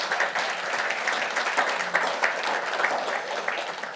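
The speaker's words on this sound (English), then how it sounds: "Big round of applause for TradeLink" An event audience applauds a sponsor, with a dense, steady wash of clapping from many hands that holds at an even level for a few seconds.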